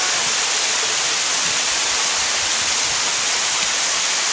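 Cold storm rain driven by blowing wind, a dense steady hiss of downpour and gusting air, loud and close with no letup.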